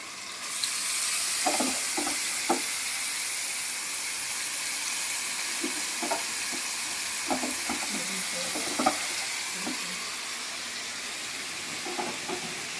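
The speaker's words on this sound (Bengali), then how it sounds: "এবার গাজরটা একটু ভাজতে হবে ভালো করে। আমি গাজরটা ভেজে দিয়ে দিলাম, গাজরটা ভেজে নেব।" Carrot pieces frying in a hot pan for a chowmein dish, with a steady sizzle throughout and intermittent stirring clatters from a utensil scraping the pan at close range; no one speaks.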